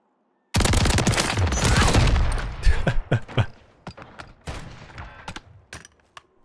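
Full-auto shotgun in a video game, a loud rapid burst of blasts that then breaks into a run of separate shots thinning out over several seconds.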